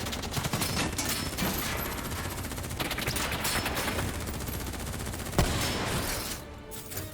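Sustained automatic gunfire in Call of Duty: Black Ops 3 crackles throughout a combat sweep of a building, a thick overlapping barrage of rapid shots with one sharper crack near the end, loud and continuous.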